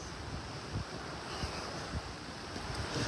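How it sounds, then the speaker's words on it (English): Ocean waves roll onto the shore in Maui, a continuous roar of surf mixed with gusty wind buffeting the microphone, heard steadily throughout with no talking. "this is that wonderful ocean view that we have with the waves crashing"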